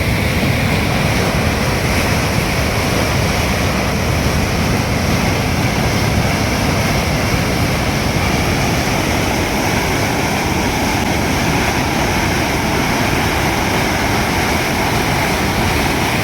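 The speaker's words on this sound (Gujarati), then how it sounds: "આ છે અમારી મચ્છુ નદી" Flooded Machchhu river at Morbi after heavy rain, a continuous broadband roar of rushing water, loud and steady with no voices.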